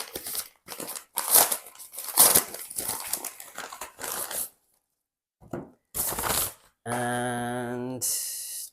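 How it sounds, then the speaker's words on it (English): Crinkling, tearing and crackling bursts from the recyclable packaging of a new Timex watch box being opened, close and loud in irregular handfuls with brief pauses, followed by a buzzing tone and a hiss near the end. "open the packaging"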